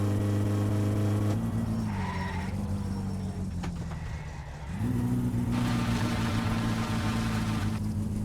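A car in My Summer Car revving at a launch with wheel slip: a loud high engine drone drops and strains, then builds again as it pulls away, with tire noise and no talking.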